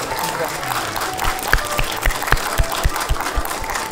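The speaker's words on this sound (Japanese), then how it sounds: "それではどうぞ皆さん大きな拍手でお出迎えのほどお願いいたします。" A crowd claps to welcome a monkey performer at an outdoor show, a moderate wash of applause with distinct sharper claps standing out every half second or so, while a voice talks faintly underneath.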